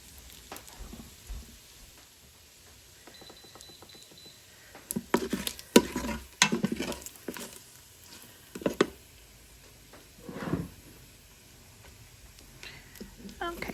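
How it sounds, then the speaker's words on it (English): Ground burger meat and vegetables fry in bacon grease, a soft intermittent sizzle with bursts of stirring and scraping in the pan, close by, with a voice talking at times. "we're going to start cooking our burger and sauteing some of those vegetables with it"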